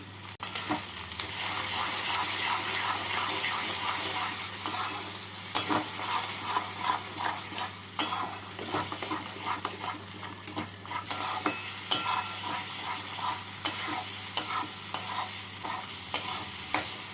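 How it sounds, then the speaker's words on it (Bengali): Spice masala fries in a pan and is stirred with beaten sour yogurt for an egg masala curry, a steady close sizzle overlaid with repeated scraping and clinking of a spoon against the pan. "টক দইটা দিয়ে মশলাটাকে ভালো করে কষিয়ে নিচ্ছি"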